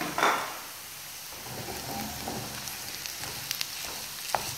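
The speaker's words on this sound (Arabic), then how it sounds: "بعد ما دبلت البصله تاعنا درك نزيدو اللحم المفروم الكفته" Minced meat (kefta) hitting a pan of softened, wilted onions while cooking a courgette gratin, giving a steady broadband sizzle with a few scraping and clattering utensil knocks, close and moderately loud, no talking.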